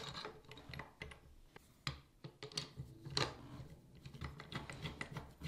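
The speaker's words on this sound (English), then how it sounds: "now we're gonna connect our thumb turn and install back the 2 existing screws" Small screws being driven back in while fitting a smart lock thumb turn onto a door deadbolt, a quiet close series of clicks, ratcheting ticks and scraping turns in uneven bursts, no voices.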